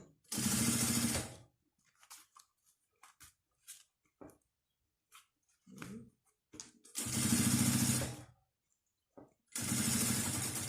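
Sewing machine stitching lining and main fabric together for a small zip pouch, in three loud whirring bursts of about a second each, separated by quiet handling clicks and a faint voice.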